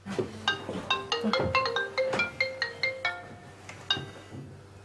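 A telephone rings with a repeated electronic ringtone, a series of bright tonal bursts in quick succession, loud and close with no talking over it.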